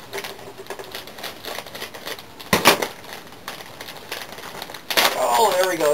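Rapid clicking and snipping of scissors cutting a crinkly plastic cheese package comes close up in uneven bursts, with a louder tearing crackle near the end and a voice speaking briefly.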